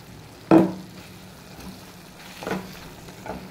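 A drumstick (murungakkai) gravy simmers in a pan while a spoon stirs it, making a sharp scrape near the start and two softer stirring sweeps later, close and alone with no talk.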